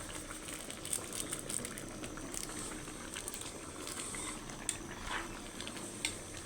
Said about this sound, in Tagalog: Pakuluin lang natin ng konti.